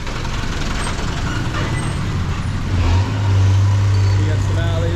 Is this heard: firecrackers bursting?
no